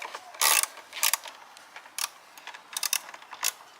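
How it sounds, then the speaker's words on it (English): A wrench ratchets as it loosens a 5/16 bolt on an engine air filter housing, giving several short, sharp, close clicks in irregular bursts against a quiet background. "This is a 5/16, so you're gonna go ahead and turn it lefty loosey."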